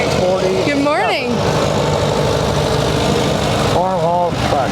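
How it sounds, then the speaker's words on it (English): A 1947 Farmall tractor engine idles steadily during a Memorial Day parade, a constant low rumble heard throughout while an announcer's voice talks over it. "We have a 1947 Farmall tractor"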